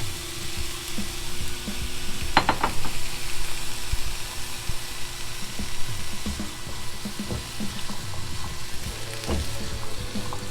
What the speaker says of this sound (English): Let's put in some apples. Oh, that sizzle.